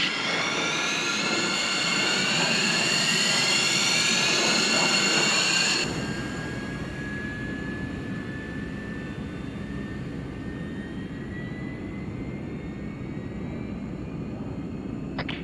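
Arma 3 aircraft jet engines spool up with a rising whine that layers into a steady roar, then settle into a lower continuous hum as the planes taxi toward the runway.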